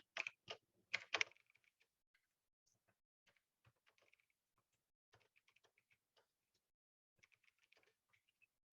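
English text is typed on a computer keyboard, a few loud quick bursts of key presses at the start, then sparse, faint, scattered taps in a quiet room with no talking.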